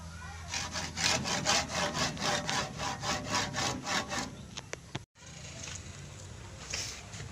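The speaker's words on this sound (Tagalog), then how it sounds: "simulan na nating lagariin" A handsaw cuts through a stack of twenty coins in a steady, rhythmic series of strokes for about five seconds, then stops abruptly; a brief silence follows, then faint rustling.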